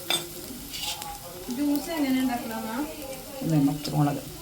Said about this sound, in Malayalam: ഇതിനകത്ത് പച്ചമുളക് ഒരു 4 എണ്ണം പച്ചമുളക് ഇട്ടിട്ട് വഴറ്റണം കേട്ടോ